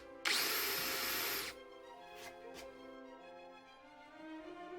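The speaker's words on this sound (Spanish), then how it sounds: "realizaremos con una broca para madera de 6 milímetros los taladros de manera oblicua" A power drill with a 6 mm wood bit whirs loudly for about a second as it bores obliquely into wood for a cajón drum, then stops, followed by a couple of faint taps and quiet room noise.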